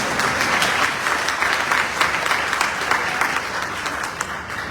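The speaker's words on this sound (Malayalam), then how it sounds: "ഇത് കേട്ടിട്ട് കൈയടിക്കാൻ തോന്നുന്നില്ല." Applause from the crowd at a BJP rally in Thrissur, a dense, steady clatter of many hands clapping together, loud and close, holding at an even level for the whole stretch with no voices over it.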